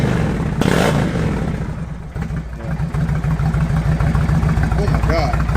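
A 2019 Indian Chieftain motorcycle engine revving up close, a loud deep rumble rising and falling in repeated throttle blips with a pulsing idle between, under some background chatter.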